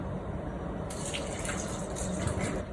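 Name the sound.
pouring milk into mixer jar with dates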